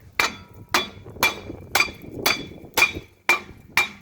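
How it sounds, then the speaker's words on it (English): A hammer strikes a car's brake rotor eight times in a steady rhythm to free it, each sharp metal clang ringing briefly before the next blow. "grab the old trusty hammer and just start whacking it."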